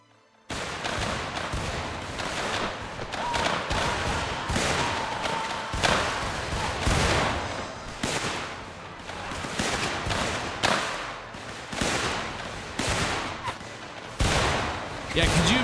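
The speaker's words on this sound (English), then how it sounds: "could you imagine firing all these repeating rifles without smokeless powder?" Repeating rifles fire in dense volleys in the Mount & Blade Warband video game during an American Civil War battle, with loud continuous cracks and booms that overlap into a sustained fusillade, while voices can be heard beneath.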